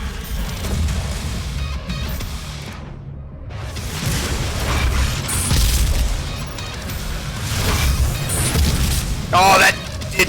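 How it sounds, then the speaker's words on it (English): Grenade blasts and heavy combat booms from the 2016 video game Doom, with dense loud rumbling bursts, crackling debris and gunfire throughout, layered over game music and effects. "Grenade."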